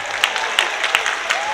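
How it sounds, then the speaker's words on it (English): An audience gives a round of clapping after a partner dance set to rock-and-roll at a school dance program's end-of-year celebration, with even, continuous applause and a few sharper claps standing out. "Let's give him a round of applause."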